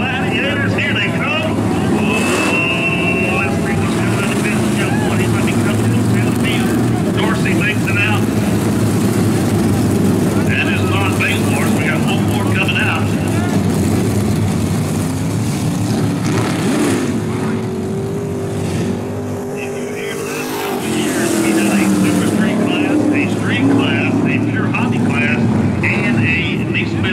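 Gladiator class stock race cars with matching carburetors roar past on a dirt oval in a steady loud engine drone that rises and falls as the pack passes, while a track announcer talks over the PA.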